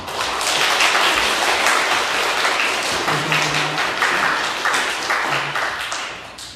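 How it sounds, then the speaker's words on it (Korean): A church congregation clapping together in sustained applause to welcome a guest speaker, dense and fairly loud, lasting several seconds with a few brief low tones mixed in. "한 번만 더 박수하며 뜨겁게 환영하도록 합시다"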